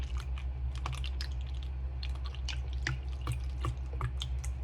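Milk pours and splashes in a steady stream, with scattered small drips and splatters over a low constant hum.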